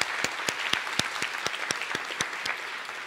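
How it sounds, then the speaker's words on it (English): A small conference audience gives sparse, distinct claps at a steady irregular rhythm, fairly quiet and slightly distant, with no voices over it. "So a big round of applause."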